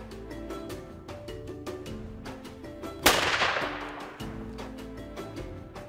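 A single sharp rifle shot cracks out at a hunting camp during pre-safari accuracy checks at altitude with CZ-557 rifles in .308 Win Mag and .30-06, ringing loudly and decaying over a steady background of music.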